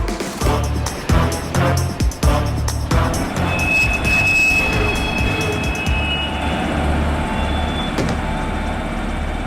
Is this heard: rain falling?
no